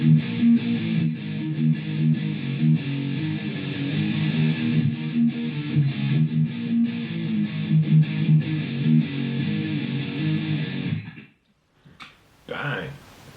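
Guitar plays a song's main riff as a steady, chugging run of notes that lasts about eleven seconds, then cuts off and is followed by a couple of brief sounds.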